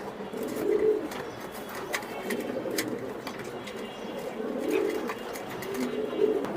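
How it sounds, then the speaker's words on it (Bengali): Pigeons at a pigeon farm in Mirpur, Dhaka, give soft, rolling coos that repeat in a loose rhythm, close and fairly quiet, over a steady background murmur of the loft. "দেন ব্ল্যাক একদম কুচকুচে ব্ল্যাক দুটোটা কবুতর"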